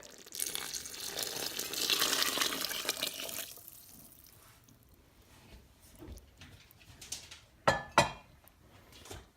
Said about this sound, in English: We are going to add our wonderful lobster stock into the soup.